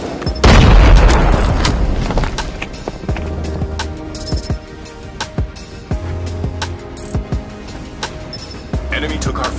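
A frag grenade explodes in Call of Duty Mobile, a loud deep boom early on that fades into rumbling game ambience, scattered gunshots and impacts, with game voices calling out over it.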